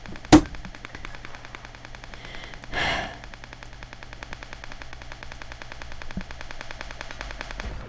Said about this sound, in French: Mais pourquoi ça tire automatiquement?